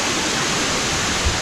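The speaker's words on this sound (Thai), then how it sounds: "ช่วงนี้เนี่ยมันก็จะมีเสียงน้ำตกแทรกเข้ามานะ" A mountain waterfall running full with fresh water roars as a steady, dense, broadband rush, loud and close throughout with no voices.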